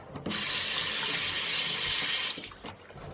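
A kitchen or bathroom tap runs steadily for a couple of seconds to wet makeup brushes, a loud, close hiss of water that then shuts off, leaving faint drips and handling noise.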